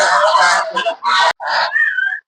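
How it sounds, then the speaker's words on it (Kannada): Loud, close geese honking in a rapid series of harsh nasal calls, several birds overlapping, with a brief pause before a final burst. "ಇದೆಲ್ಲ ಹಂಸ ನೋಡಿ"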